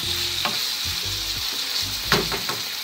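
A spiced mixture with tomato paste cooking in a pan, sizzling steadily while a spoon scrapes and stirs in a few distinct strokes, close and fairly loud.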